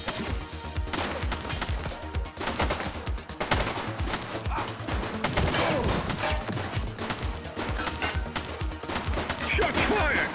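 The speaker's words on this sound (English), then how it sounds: "Shots fired!" Gunfire in the police video game The Precinct: a dense, loud fusillade of rapid shots with overlapping bursts and impacts, continuing without a break.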